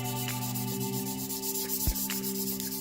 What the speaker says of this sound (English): lay it down on there and just go side to side